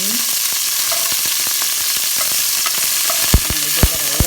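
Food frying in hot oil for a chili recipe, with a constant bright sizzle and occasional soft clinks of a slotted spoon against the pot. Close and steady.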